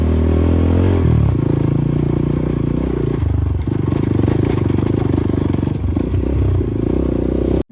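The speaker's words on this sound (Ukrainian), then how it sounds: "ланцюг проскакує просто люто" A Kova Advance 250 or Minsk 125 motorcycle ridden with its chain skipping gives a loud, steady engine drone with irregular clattering and scraping running throughout, close up and unbroken until it cuts off abruptly at the end.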